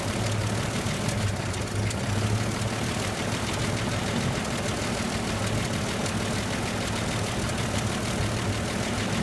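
A new generator engine idles steadily, a loud, continuous low drone with an even mechanical rumble throughout and no voices.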